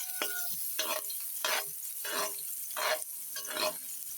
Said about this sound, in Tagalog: and then add the 1/4 cup of onion